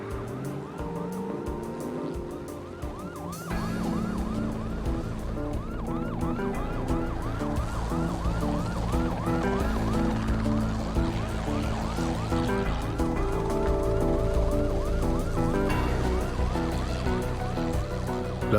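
Police car sirens wailing loudly and continuously during a chase, several overlapping sweeping tones over a low vehicle rumble, growing fuller and more intense partway through.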